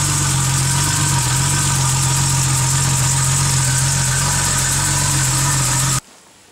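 A Porsche 930 engine idles steadily with a low, even rumble and a faint hiss on top, then cuts off abruptly near the end.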